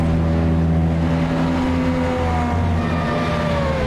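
Ferrari 488 race car on a warm-up lap at Spa-Francorchamps in iRacing, its engine droning steadily and close with harmonic tones slowly rising, loud and continuous throughout with no talking.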